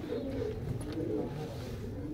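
Pigeons coo softly in a breeder's loft, low rounded calls repeating steadily over a constant background hum with no voices.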